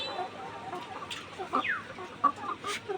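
Laying hens on a poultry farm cluck in short, scattered calls over a quiet background hum, several birds near and farther off.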